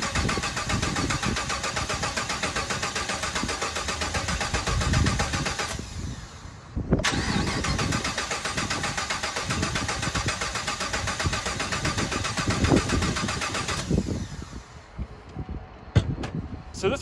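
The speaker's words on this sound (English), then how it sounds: "So this one doesn't want to start." Engine of a wrecked or stolen Hennessy supercar at a salvage auction, cranking repeatedly with a steady whirring starter, pausing briefly, cranking again and then stopping, close and loud without catching.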